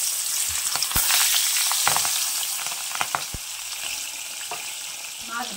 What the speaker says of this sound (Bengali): এবার ট্যাংরা মাছগুলো ভেজে নেব।